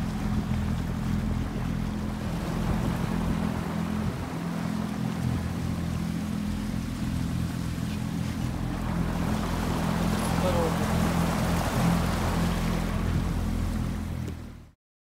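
A motorboat engine drones steadily on a reservoir at the Sarıyar Dam, a constant low rumble with water and wind wash, holding throughout before cutting off at the very end.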